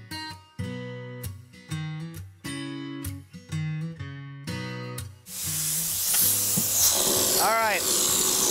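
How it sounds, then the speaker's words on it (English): Wet glass-fibre reinforced concrete sprayed into the corners of a chair mold, a steady loud hiss of spray that follows a short passage of music. "we're actually starting on the walls, spraying into the corners"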